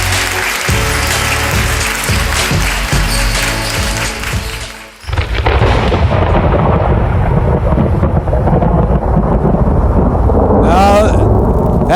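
A thunder sound effect in a basketball radio show intro, a loud crashing rumble that breaks midway into a sustained roaring wash, filling the whole stretch with no talk over it.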